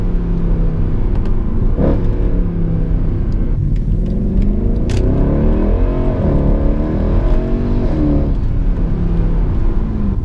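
A Mercedes-Benz W204 C63 AMG pulls steadily in third gear under moderate driving, its V8 engine note rising and falling loudly from inside the cabin, with road rumble beneath and no talking.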